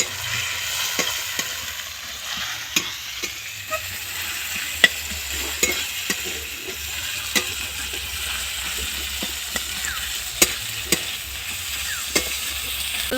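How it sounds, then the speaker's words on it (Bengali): Onions frying in hot oil while a spatula stirs them, an even background sizzle broken by sharp, regular scraping clicks against the pan, close and alone without speech. "এবারে আমি এর মধ্যে পেঁয়াজগুলো দিয়ে দিলাম।"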